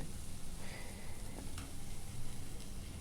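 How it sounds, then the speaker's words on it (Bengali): Green chili paste fries in hot oil with spices, a steady close sizzle and crackle with faint stirring scrapes running throughout. "কাঁচা লঙ্কা বাটা যেটা আমি বানিয়ে রেখেছিলাম এটাকে এভাবে কিছুক্ষণের মধ্যে ভালো করে তেলের মধ্যে ভেজে নিতে হবে"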